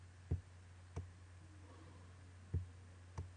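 Mouse clicks while working in ArcGIS map software, four sharp isolated clicks spaced unevenly, close and quiet over a steady low electrical hum.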